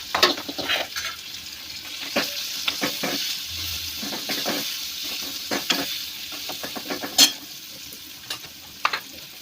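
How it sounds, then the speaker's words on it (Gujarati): Onions, cumin, asafoetida and chilies crackle and sizzle in hot oil, with scattered pops and scraping stirs close by, no voices over the frying. "જીરું એક ચૂટકી રાખવાની છે હિંગ બરાબર છે મરચા છે અંદર અને ડુંગળી છે એને અંદર નાખી દીધું છે"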